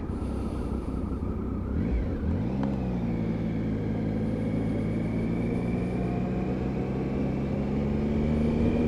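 A Triumph Tiger 955i motorcycle engine drops briefly, then pulls hard and steadily upward through the revs, a loud close-up rising drone with wind rush that climbs evenly to the end.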